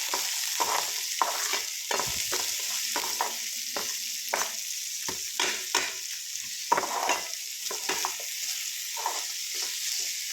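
Food fries in a pan with salt added, giving a steady sizzle broken by repeated scraping and stirring strokes at an irregular rhythm, close and moderately loud, with no talking.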